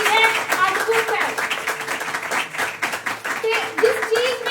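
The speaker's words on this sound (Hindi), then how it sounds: "एक बार जोर से प्रभु की महिमा करें, तालियां बजाकर" Congregation clapping hands in praise during a worship service, a steady patter of claps through the whole stretch with voices and a held tone mixed underneath.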